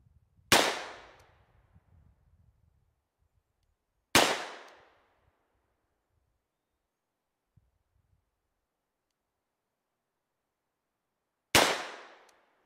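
Three sharp, loud revolver shots from a Smith & Wesson M1917 World War I revolver, widely spaced with silence between, each a hard crack with a short decaying tail.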